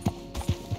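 Horse hooves clip-clop in a quick run of four or five soft thuds, close and moderately loud, in the Red Dead Redemption 2 video game.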